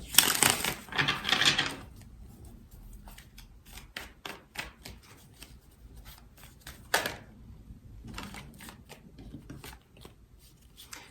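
Tarot cards riffle and shuffle in a few brisk bursts, followed by scattered soft taps and flicks of cards being handled.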